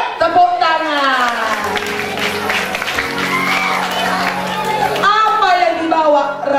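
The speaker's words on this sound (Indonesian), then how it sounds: "Tepuk tangan." An audience claps and cheers together at a gathering, with steady applause swelling through the middle and voices rising over it at the start and end.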